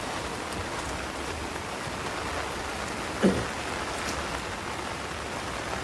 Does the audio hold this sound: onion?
no